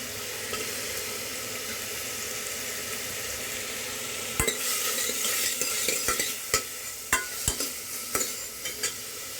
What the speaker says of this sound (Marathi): म्हणजे कांदा चिरून ठेवलेला आहे ते थोडं भाजून घ्यायचं